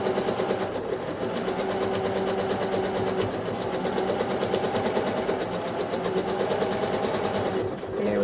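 A sewing machine free-motion quilting lines on a Drunkard's Path block runs steadily and close with a rapid, even stitching chatter, with no pauses and no talking.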